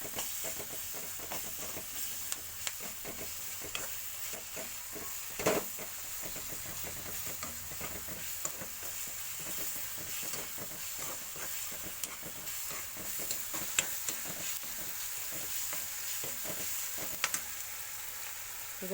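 Salt and garam masala are stirred into a sizzling pan of spices for bhindi masala fry, a soft continuous frying hiss broken by scraping and clinking stirs, with no talk.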